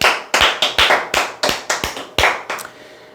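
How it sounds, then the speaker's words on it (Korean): An audience clapping hands in a talk setting, a series of about eleven sharp, evenly spaced claps with short decays, loud and close with no speech over them. "박수 한번 치시죠."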